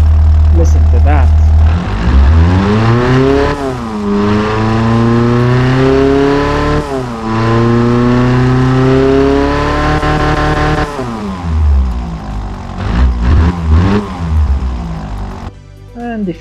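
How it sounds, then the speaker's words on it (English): A simulated Ford Model T-style engine, tuned to 130 horsepower with its second muffler removed in the Automation game, revs up and down repeatedly. It gives a loud, sustained harmonic drone that rises and falls in pitch across several accelerations. "Remove the second muffler and you have 130 horsepower. Listen to that."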